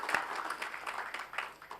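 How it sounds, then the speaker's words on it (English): Light applause at an academic conference, a small group clapping briefly and fairly faintly. "Please give a round of applause for us."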